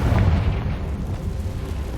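A Confringo fire spell blast in Hogwarts Legacy gives a short, heavy boom whose low rumble lingers and rolls on throughout.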